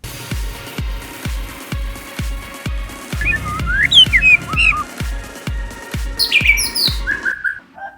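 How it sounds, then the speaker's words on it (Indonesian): A white-rumped shama sings bright whistled phrases and chirps over a steady rhythmic thumping backdrop, the song growing busier and clearer toward the end. "Burung murai batu"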